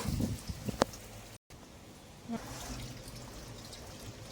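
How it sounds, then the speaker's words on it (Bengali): Water runs and trickles over leafy greens (shak) being rinsed by hand, a steady close splashing pour with a few sharp knocks near the start and a brief gap midway. "এরকম করে আরো আমি 2-3 বার ধুয়ে নেবো শাকটা"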